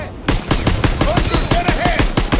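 Rapid machine gun fire in the World War II shooter Call of Duty WWII, a loud close burst of evenly spaced shots about five per second running almost the whole time with no gaps.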